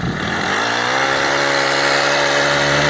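A small FG110 mini tiller engine revs up to full throttle, climbing quickly in pitch during the first half second and then holding a steady, loud, close drone.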